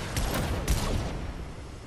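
Gunfire in a video game: a few quick, sharp shots near the start, then a dull, steady game-noise bed with no clear talk.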